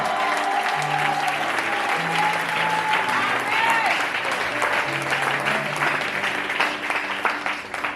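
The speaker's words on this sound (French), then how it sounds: "Applaudis très très fort le Seigneur" A church congregation at a prayer and edification service applauding loudly for the Lord, steady dense clapping with cheering voices and shouts mixed in, sustained for about eight seconds.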